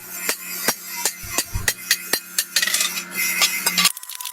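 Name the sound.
small cutter trimming metal propeller blade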